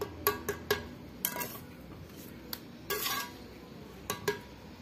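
A mason's steel trowel works mortar into a wall corner, giving a series of sharp metallic clinks and taps with a few short scraping strokes between them, close by and with no talking.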